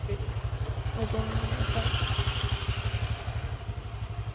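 A motorcycle engine putters steadily and close by as it rolls into a beach resort in Albay, its rapid pulsing idle-to-low-rev beat continuing throughout while people speak briefly nearby.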